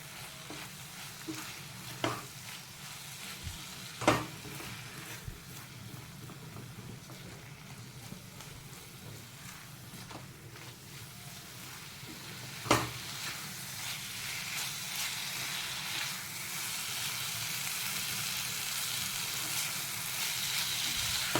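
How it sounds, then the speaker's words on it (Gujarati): Parwal (pointed gourd) sabzi with chili, turmeric and coriander-cumin powder is stirred and fried in a pan, a continuous soft sizzle with occasional sharp scrapes and knocks of the spoon, growing hissier toward the end. "આ હળદર આ ધાના જીરું હવે બધું મિક્સ કરી લેવાનું"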